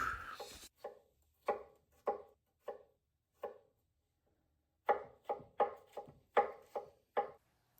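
Knife chopping a vegetable on a cutting board while making a Mediterranean shrimp stew: a dozen or so crisp, close chops in uneven bursts, with a pause midway and a quicker run of strokes at the end.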